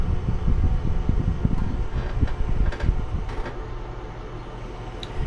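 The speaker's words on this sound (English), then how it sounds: "Yeah, this is a hairdryer." A 1950s hairdryer blows steady air, a broad low rumbling whoosh with faint rattle, fairly close and continuous before easing slightly toward the end.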